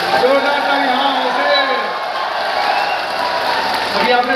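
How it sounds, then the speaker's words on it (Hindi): Audience applause at a public event where a chief minister distributes beneficiary certificates, a sustained dense clapping wash lasting throughout at steady loudness, with voices mixed in. "जोरदार तालियां, हल्ला काट के जोरदार तालियां।"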